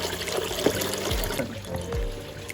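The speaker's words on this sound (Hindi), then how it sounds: "वाटर बॉटल्स रिफिल कर रहे हैं सब लोग." A year-round mountain stream on the Ghatghar trek in Maharashtra runs steadily as water bottles are refilled, with a continuous close trickle and rush of water.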